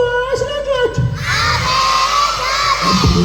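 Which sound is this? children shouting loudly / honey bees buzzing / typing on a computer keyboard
children shouting loudly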